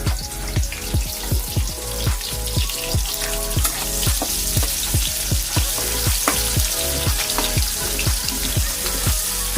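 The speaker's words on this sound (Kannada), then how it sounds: "ಈರುಳ್ಳಿ ಸ್ವಲ್ಪ ಗೋಲ್ಡನ್ ಫ್ರೈ ಆಗಲಿ." Chopped onion frying in a pan for a spicy rajma gravy, a close, continuous crackling sizzle with rapid irregular pops and spits throughout, no talking.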